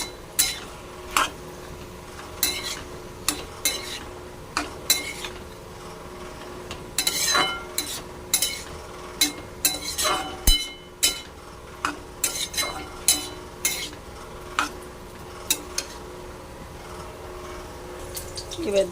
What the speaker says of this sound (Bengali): এবার দিয়ে দেব ধনে গুঁড়ো হাফ চামচ, জিরে গুঁড়ো দিয়ে দিলাম। এবার নাড়াচাড়ি করে নেব